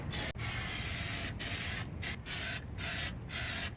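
Rubberized undercoat sprays in steady hissing bursts onto a car's rear fender during rust repair on a Genesis Coupe, several sustained passes broken by short pauses, close and fairly loud with no talk.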